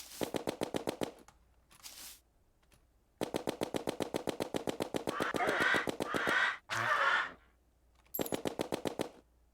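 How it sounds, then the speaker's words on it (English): Rapid bursts of automatic gunfire in steady rhythmic volleys, several separate strings of shots with brief pauses between them. "I guess let's just occasionally shoot up there."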